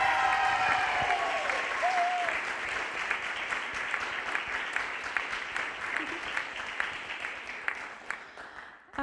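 An audience at an elementary school TED Ed night applauds its students with sustained, dense clapping that carries on for several seconds before gradually thinning and fading out.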